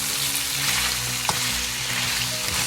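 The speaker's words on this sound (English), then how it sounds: "Okay, brown them up." Beef for bistek tagalog browns in rendered fat in a pan, giving a continuous close sizzle with a low rumble and a single sharp clink partway through.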